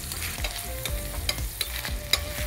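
Chopped onion fries in oil with spices in a home kitchen pan, a soft steady sizzle broken by sharp scrapes and knocks of a spoon stirring against the pan at uneven intervals, with no one talking.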